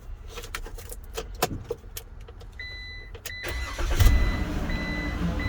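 After some keys jangle and clicks, a car's ignition is switched on with warning chimes, and the engine cranks and catches into a low running rumble nearby.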